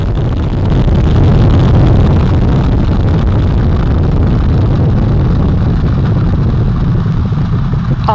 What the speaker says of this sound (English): All four RS-25 engines on the core stage and two solid rocket boosters now propelling the vehicle at 128 miles per hour.